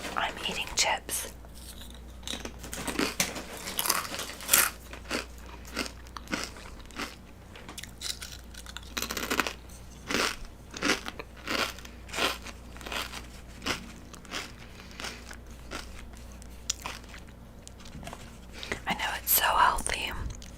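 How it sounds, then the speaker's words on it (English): Crunchy chips eaten close to the mic during a live ASMR art show, with crisp bites and crackly chewing scattered through soft whispered talk. "I'm eating chips."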